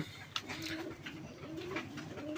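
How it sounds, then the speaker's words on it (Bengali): Black pigeons of an old Golla breed coo softly and repeatedly in a rolling, throaty rhythm, close by, against a light background hiss. "এই যে পুরান জাতের গোল্লা কবুতর দেখেন, কালো, একবারে কালো, কুচকুচা কালো"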